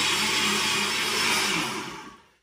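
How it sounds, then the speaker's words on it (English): A steady, loud rushing whir of a blender motor running as the blender is rinsed out with spring water, with a churning noise throughout that fades out at the end. "So I'm just going to wash my blender out."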